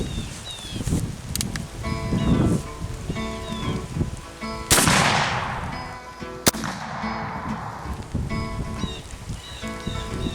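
A Cabela's .58 caliber Hawken muzzleloader rifle fires outdoors with a sharp loud boom followed by a trailing rumble, and a second sharp crack comes a couple of seconds later amid background noise.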